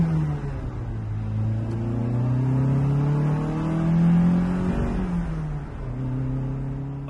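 A Lancia Fulvia coupe's exhaust burbles and revs nearby, its engine note rising in a long sweep, dropping, then picking up again, heard alone without talk.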